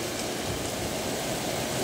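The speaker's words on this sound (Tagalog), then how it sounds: "Buhos ng ulan." Heavy rain pouring steadily, a dense continuous hiss with no breaks and no voices.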